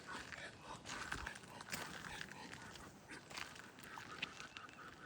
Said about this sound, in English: Oh, it's fighting. No fighting. Little rude ducks.